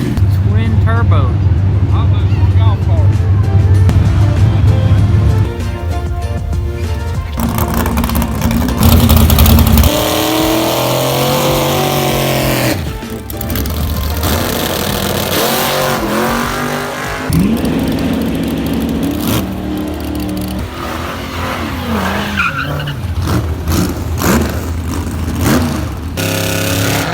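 A rebuilt twin-turbo Hellcat car revs hard and launches, its loud engine roaring and rising through gears inside the cabin while people talk over it throughout.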